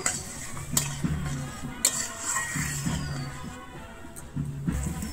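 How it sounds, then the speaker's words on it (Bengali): Salt and turmeric being stirred into water in a metal pot, with a spoon scraping and clinking against the sides in repeated rhythmic strokes, close and moderately loud, no voices. "আর দিচ্ছি হলুদ দিয়ে আমি আবারও খুব ভালোভাবে মিশিয়ে নেব"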